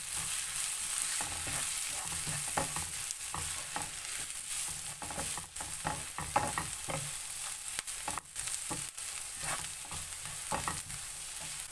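Turmeric, chili and coriander powders stirred together in a hot pan, giving a steady close sizzle broken by frequent scraping and clinking strokes of the spoon throughout.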